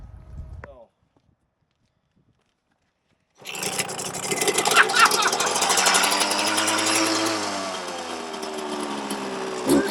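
A Suzuki RM125 two-stroke dirt bike fires up after a brief silence and settles into a loud, raspy, buzzing idle that rises and wavers close by.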